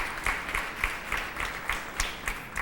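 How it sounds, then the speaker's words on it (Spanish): A church congregation claps for a few seconds, with distinct individual claps standing out rhythmically from a steady layer of applause at moderate loudness, no talking. "qué aplauso más garra"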